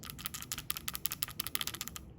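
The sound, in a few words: PCV valve ball rattling when shaken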